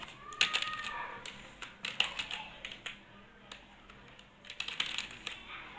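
Quiet, irregular clicking of computer keys being typed, with short bursts of taps scattered across the stretch and a faint low background hum.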